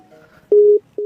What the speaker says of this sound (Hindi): वो एक फोन बज रहा है